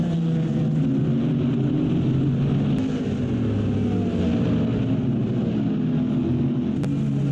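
GT4 race cars, including a Chevrolet Camaro GT4R and a Corvette, run in traffic at Watkins Glen, their engines a continuous, loud, droning howl with layered pitches that shift slightly as the cars hold their pace.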